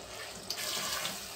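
Water runs from a kitchen tap in a home, a steady broadband splashing stream with a small burst midway, fairly close and continuous.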